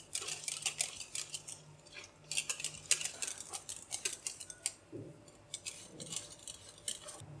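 A spoon works through pistachio ice cream mixture with crushed pistachios in a bowl, giving quick, irregular scraping and tapping strokes, close and moderately loud, with no talking.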